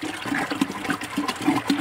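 Water is poured out onto straw bales in a garden, a close, continuous splashing and gurgling rush with uneven surges.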